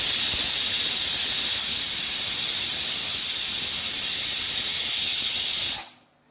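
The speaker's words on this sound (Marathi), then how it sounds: "तर आता 2 शिट्ट्या झालेल्या आहेत।" A pressure cooker of chickpeas on high flame lets out a loud, steady hissing whistle of steam that holds for several seconds and then cuts off abruptly.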